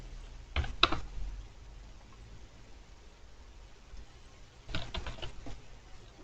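Keystrokes on a computer keyboard in a quiet room: a short cluster of clicks near the start, then a pause before another quick burst of taps, soft and close.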